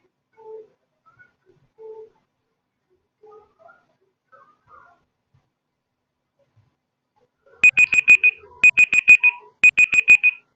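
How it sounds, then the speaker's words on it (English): A quiz countdown timer's electronic alarm rings out in three rapid bursts of sharp beeps, loud and close, following a few soft ticks in near silence. "Your 20-second timer starts now."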